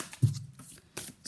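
Moon Oracle deck cards being shuffled by hand, a few quick soft riffling bursts at close range in a quiet room, without talking.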